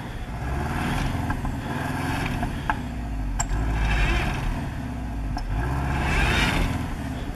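A Subaru Forester's engine drones steadily and swells in revs as it strains to pull free of snow, a continuous rumbling roar with periodic surges, close and fairly loud, with a few faint clicks and no talking.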